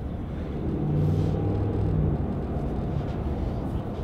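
A tuned Dodge RAM Hemi V8 engine rumbles in a steady, deep drone heard from inside the truck, moderately loud and continuous with a slight swell in the middle, no talk over it.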